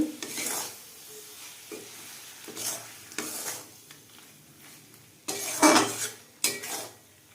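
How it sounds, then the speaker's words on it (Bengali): A ground mustard and poppy seed spice paste is stirred and fried in a pan for bean-leaf paturi, with intermittent scraping strokes of a spoon against the metal over a soft sizzle, no talking. "এটাকে কিছুক্ষণ ভালো করে কষিয়ে নেব"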